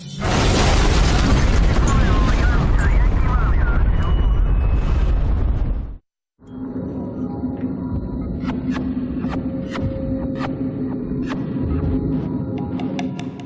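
A bomb blast in Omagh town centre, Northern Ireland, bursts out as a loud broadband roar that lasts several seconds and then cuts off abruptly. After a short silence, a lower rumbling hum follows, overlaid with sharp crackling pops.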